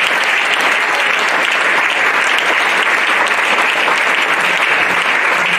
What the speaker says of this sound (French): On va acclamer pour maman Sanon Marie.